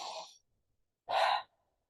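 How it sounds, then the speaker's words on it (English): Two deep breaths, a longer airy inhale followed by a brief gap and a second full, breathy exhale, close and clear against silence. "When you notice that, take a deep breath and see what happens."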